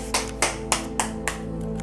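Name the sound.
studio audience applauding game show contestant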